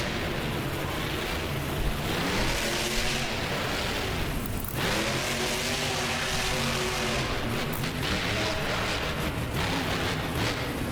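Monster truck engines in a BeamNG Drive Monster Jam event on a custom Anaheim course, including a custom dump truck, roar loudly and continuously for the whole stretch with no talking.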